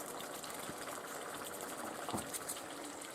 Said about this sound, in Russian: На большом огне буду жарить.